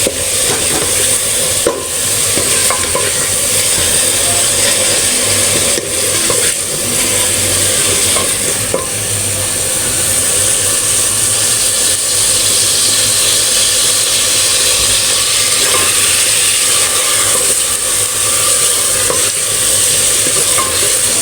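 Minced meat (keema) and peas fry with garlic in a pan, giving a continuous loud sizzle and hiss with occasional scraping stir strokes, close up and without talk.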